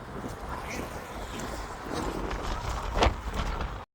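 Steady wind buffets the microphone with a low rumbling roar throughout, rising in gusts before cutting off abruptly.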